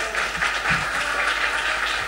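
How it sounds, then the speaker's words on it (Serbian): Audience applause at an art festival in Obrenovac, a dense steady wash of many hands clapping at moderate loudness, sustained without pause for a couple of seconds with no talking. "Jedan aplauz molim se."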